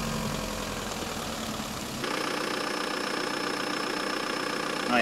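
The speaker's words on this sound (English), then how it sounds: "With a turn of the key, the car starts." Volkswagen TDI diesel running on biodiesel, cranking briefly then settling into a steady, close idle with an even knocking clatter and a slight rise near the end.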